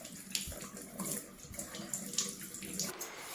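Tap water runs quietly and steadily into a sink as radishes are rinsed clean, with small splashes and clinks over the continuous flow.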